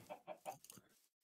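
A Minecraft chicken gives a quick run of soft, clipped clucks, four or five short notes in close succession, faint and alone before falling silent.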